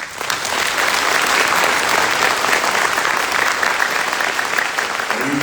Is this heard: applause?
yes